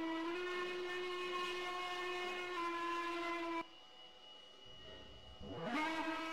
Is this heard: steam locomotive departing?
yes